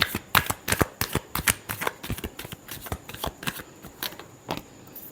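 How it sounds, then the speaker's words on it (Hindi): Tarot cards are shuffled by hand at close range in a quick run of crisp riffling flutters and taps for about five seconds, with no talk. "last shuffle"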